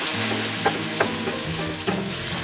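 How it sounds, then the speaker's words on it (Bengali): Potatoes frying in a pan for a Bengali ridge gourd, potato and prawn curry with onions and turmeric, a steady close sizzle with a few sharper stirring clinks and no voices. "আলুগুলোকে আমি ভালো করে ভাজা ভাজা করে দেব।"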